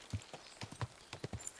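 Horse hooves clip-clop in an uneven trot on a quiet path in the medieval game Kingdom Come Deliverance 2, fairly faint and soft, with no talking.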